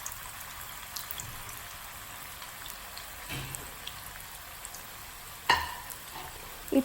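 Potato fingers frying in hot oil in a frying pan, a low, steady sizzle with soft crackles and a few louder clatters near the end.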